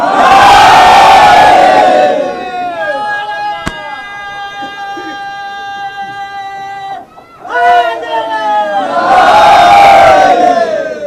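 At a religious majlis gathering in New Agra, a large crowd roars the Nara-e-Haidari slogan in two loud, full-throated bursts, with a sustained droning tone filling the quieter stretch between them.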